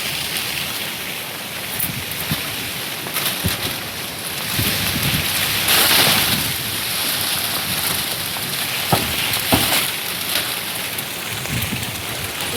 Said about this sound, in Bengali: বৃষ্টি তো টানা চলছে